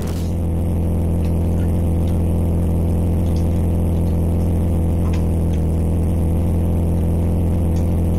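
Steady, continuous mid-pitched car engine drone from the Amiga racing game Alpha Racing, a constant whirring hum holding one pitch at top speed without revving changes, loud and alone.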